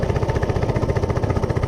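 A worn-out Coleman CC100x minibike engine held at full throttle, a steady, rapidly pulsing mid-pitched buzz with a thrumming low end, close and loud without pause.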